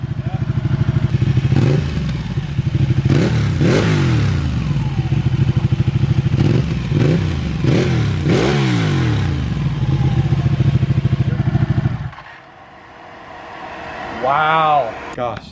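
A Ducati 1199 Panigale engine idles loudly, then revs sharply several times in bursts before cutting off; a brief voice follows near the end.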